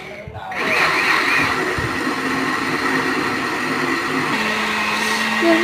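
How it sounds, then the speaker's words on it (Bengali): A blender whirs steadily while blending ingredients for nabanna, with a loud, even motor drone that starts after a brief quiet moment and runs without a break. "দেখো ভালো করে ব্লেন্ড করে নিচ্ছে।"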